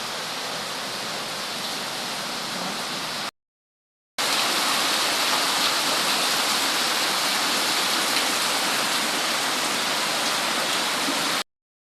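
Heavy typhoon rain pours down in the Philippines as a dense, constant hiss, loud and unbroken apart from one short gap of silence.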